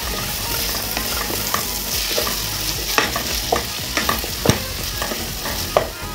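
Potato mash with a spoonful of tomato paste fries in a pan under a steady sizzle, while a spoon scrapes and knocks against the pan in irregular sharp clacks, no voices present.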